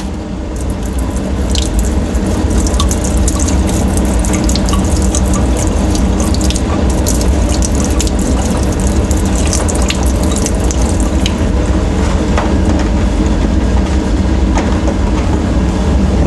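Distilled deionized water rinses a wafer in a lab, a loud, continuous rush of running water like a strong tap spraying steadily into a sink, with no talking.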